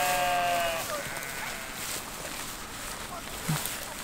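Sheep bleat on a farm in Zeeuws-Vlaanderen, with one clear, wavering bleat at the start and fainter livestock sounds after it, under outdoor wind noise and a person talking nearby.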